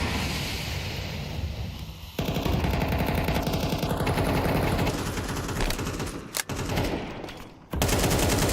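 Counter-Strike 2 gunfire during a tournament match: loud, rapid automatic bursts fill most of the stretch, broken by short gaps and an abrupt cutoff before firing resumes.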